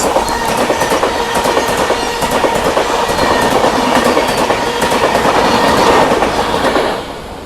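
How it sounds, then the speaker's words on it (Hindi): The Bhagalpur–Anand Vihar Terminal Garib Rath Express rushes past close by, a loud sustained roar with rhythmic clickety-clack of wheels over rail joints, fading slightly at the end. "ये थी भागलपुर आनंद विहार टर्मिनल गरीब रथ"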